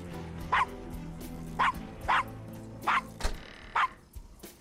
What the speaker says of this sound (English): The Gabriel just start barking like a dog for no reason.